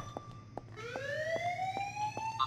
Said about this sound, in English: Let's see where the alarm was pushed at.